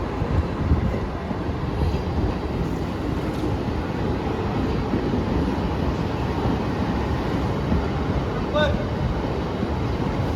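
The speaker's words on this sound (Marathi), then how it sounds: "आणि ही आपली ट्रेन." A steady, loud rumble of the Uran local train near the station in Mumbai, continuous rail noise filling the scene with no clear speech.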